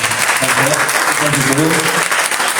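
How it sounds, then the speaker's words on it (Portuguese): A loud, close burst of sustained audience applause for Afonso, with a voice talking over the clapping throughout. "uma salva de palmas aí para o Afonso"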